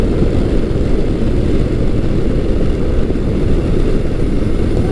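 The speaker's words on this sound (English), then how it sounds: "This bike just cranks." Kawasaki Versys 1000 LT with a liquid-cooled 1000cc inline-four, engine droning loud and close with a dense, steady low roar that holds level the whole time.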